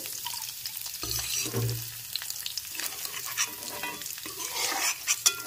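Ingredients for a vegetarian paneer pulao are stirred and fried together in a pan. A soft, continuous sizzle runs under close scraping stirring strokes, with no talking.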